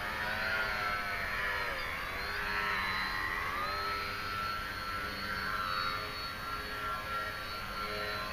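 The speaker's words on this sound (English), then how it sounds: "Oh, nice Harrier." Harrier jet engine roaring loud and close in steady hover, a dense continuous whine with shifting tones and no talking over it.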